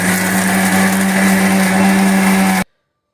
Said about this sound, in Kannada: ಸೊ ಮಿಕ್ಸಿ ಜಾರ್ ರೆಡಿ ಇದೆ. ಇನ್ನೇನು ಮಿಕ್ಸಿಯಲ್ಲಿ ಹಾಕಿ